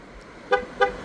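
Two short car horn chirps from a 2015 Ford Focus on locking, signaling a rear door left open, one right after the other, close by over a quiet background.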